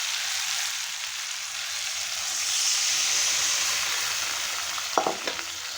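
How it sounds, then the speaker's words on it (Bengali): Fish curry with helencha greens bubbling in a pot after water is poured in, a steady loud hissing simmer with a brief clatter near the end and no talk. "মাছের ঝোল আমার ফুটে উঠেছে"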